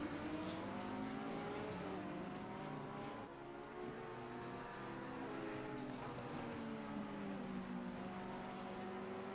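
GT3 race cars brake hard in Assetto Corsa Competizione at the Circuit of the Americas, and their engines drone continuously as the pitch rises and falls through the corners. The sound is fairly faint and steady throughout.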